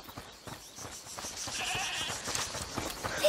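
Goat bleats ring out in A Plague Tale Requiem, a few wavering calls carrying over a busy ambient game soundscape at moderate loudness.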